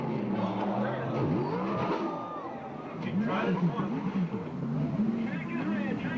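USAC/CRA sprint cars race at the Perris, California track, engines rising and falling in pitch as they lap, running under steady commentary from an announcer.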